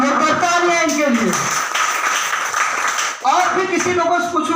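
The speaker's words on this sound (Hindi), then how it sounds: "और तालियां इनके लिए।" An audience at a meeting breaks into a short burst of applause, a dense wash of clapping lasting about two seconds between stretches of someone talking.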